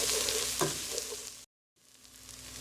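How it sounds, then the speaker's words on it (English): Spaghetti bolognese mince with oregano browning in a pan, a close, steady sizzle and frying crackle that cuts out briefly before resuming. "Stir that up, right, and just get it all sort of browned up."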